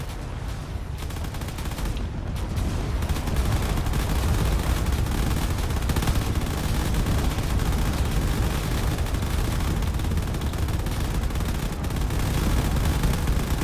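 Dense, continuous video game gunfire from smaller guns mixed with missile and railgun impacts in Drone Wars, a loud, unbroken wall of rapid shots and blasts with no pauses.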